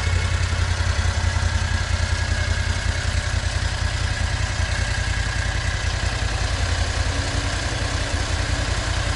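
Borus Extreme all-terrain vehicle engine idling steadily to cool down, a constant low rumbling chug with clattering, close and loud, no talk.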